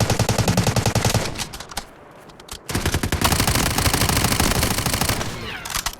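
Rapid automatic gunfire from an iron-sighted Uzi in the video game Delta Force, loud, close bursts before a brief pause, then a second long sustained burst.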